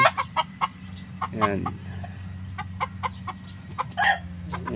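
Native chickens kept in a cage on a rural farm: soft, repeated clucks and short calls close by over a steady low background hum, with a brief voice.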